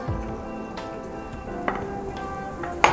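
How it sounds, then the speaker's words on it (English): Asafoetida sautéing in a pan for Indian urad chana dal kachori: a steady, soft sizzle with a few faint clicks and taps, no voices. "After adding the asafoetida, we'll just saute it for 2 minutes"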